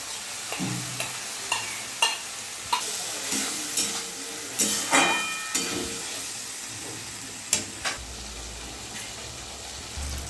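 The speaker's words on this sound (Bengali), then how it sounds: "মশলা কষানো হয়ে গেছে, মশলা থেকে তেল ছেড়ে গেছে" A Bengali aloo dum masala of onion-spice paste with cashew-poppy seed paste and yogurt fries in oil in a pan, a soft steady sizzle broken by repeated scraping stirs and light clinks of the spoon, close and quiet.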